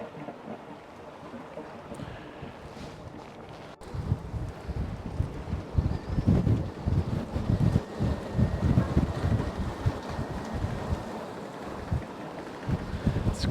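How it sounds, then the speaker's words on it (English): Strong gusts of wind buffet a sailboat on the Swedish west coast, a loud, continuous roar rising sharply after a few quiet seconds and staying rough and blustery, with water and hull noise mixed in. "It's quite gusty."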